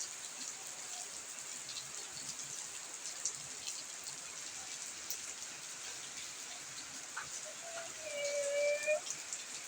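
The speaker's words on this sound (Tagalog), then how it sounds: "Lalo kung lumakas ang ulan, oh. Ano po, oh. Ang lakas." Steady rain hisses across the whole stretch, a dense wash of drops on a surface, with a faint whistle-like tone rising near the end.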